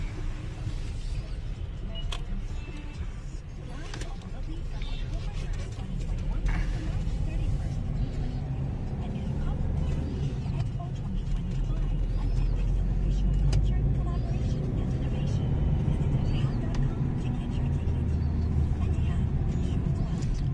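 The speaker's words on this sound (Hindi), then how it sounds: "पेट्रोल हम डला चुके हैं और अब हम बाहर की तरफ निकल रहे हैं" A petrol car pulls out of a fuel station after refuelling near Bannerghatta, with a steady engine and road rumble throughout and traffic noise around it.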